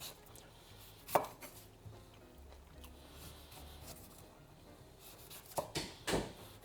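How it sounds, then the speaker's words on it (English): A knife works through a peeled broccoli stalk on a board, cutting it into matchsticks, with a few distinct chops standing out over faint background hum and otherwise quiet, sparse cutting. "we're going to cut this into lovely matchsticks"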